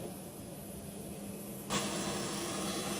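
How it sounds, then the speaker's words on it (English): Steady broadband hiss and roar from the auxiliary power unit exhaust in the tail of a Boeing 767 freighter after cargo conversion, continuous at moderate level with a slight step up in loudness partway through, no talk. "That noise is coming from that exhaust, that hole in the tail there. That's from the auxiliary power unit."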